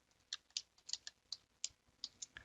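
Quiet, irregular clicks of fingers typing on a computer keyboard, a dozen or so distinct keystrokes close by with no talking.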